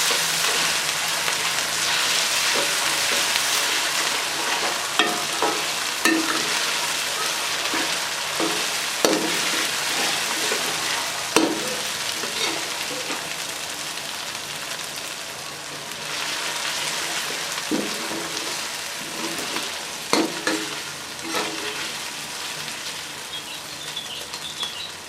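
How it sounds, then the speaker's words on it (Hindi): Ginger and garlic fry in a pan for an aloo palak dish, a steady close sizzle and crackle with occasional scrapes and clinks of a stirring spoon. "अदरक लहसुन को अच्छे तरीके से फ्राई करेंगे।"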